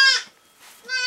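Goat on a small Altai farm giving two loud, harmonic bleats, one at the start and one at the end, close by with a brief quiet gap between them.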